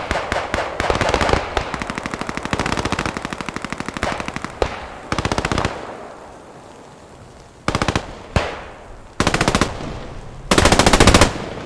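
Rapid bursts of machine gun fire from the Company of Heroes game, loud rattling volleys of varying length separated by brief pauses, with quieter distant gunfire in the gaps.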